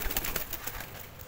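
Young pigeon chicks coo softly and continuously at close range in a pigeon loft, their low murmuring calls overlapping against a busy background hum.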